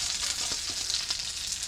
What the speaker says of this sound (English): Got it frying up in the pan nice.